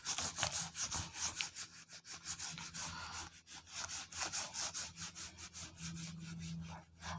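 A classroom board is rubbed clean in quick, continuous back-and-forth scrubbing strokes, close and fairly quiet, with no speech.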